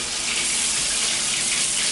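Hot water gushes steadily from a shower tap set fully to hot in an apartment bathroom with good pressure, a continuous close, loud broadband rush with no talking.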